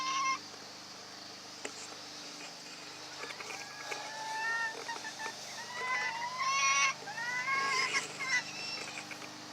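A young flock of chickens on a farm fills the air with overlapping chirps and peeps, a steady chatter of small birds heard close by without talk.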